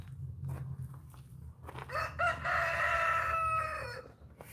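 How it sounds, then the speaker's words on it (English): A rooster crows once in a long, ringing call near a garage, preceded by low engine-like rumble and faint clucking, moderately close. "Roosters will attack you when you're not looking."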